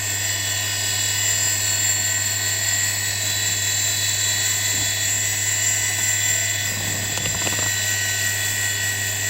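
A 500W brushless motor spindle running on 24 volts at its maximum RPM gives a steady, loud high-pitched whine with a constant hum underneath, unbroken for the whole stretch, with a brief rough disturbance near the end.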